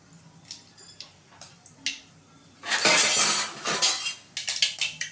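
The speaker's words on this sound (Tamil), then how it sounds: "கடுகு நல்லா பொரிஞ்சிருச்சு." Mustard seeds splutter in hot oil as scattered sharp pops and ticks, swelling into a loud dense crackling burst midway before easing back into intermittent pops.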